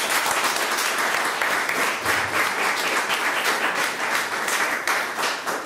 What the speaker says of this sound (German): Ich glaube, du hast einen Applaus verdient.